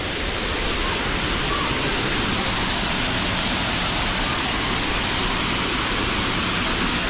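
A river in Nasugbu, close and loud, with a constant broadband rush of flowing water that stays steady and unbroken throughout and has no voices over it.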